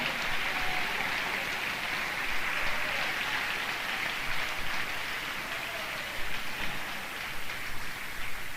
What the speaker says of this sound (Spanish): Aplaude al Señor esta mañana